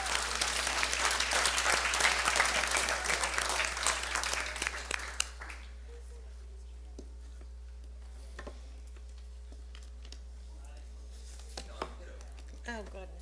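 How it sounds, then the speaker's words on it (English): Applause at a board meeting: a loud, dense round of clapping from the audience for about five seconds, then it cuts off to near silence with a few faint knocks. "Let's give them a big round of applause."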